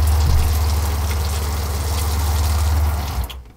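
An off-grid van's built-in shower runs steadily with a loud, close hiss of spraying water for several seconds, then cuts off abruptly near the end.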